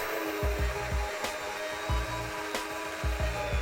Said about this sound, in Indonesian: Jika menggunakan hand mixer begini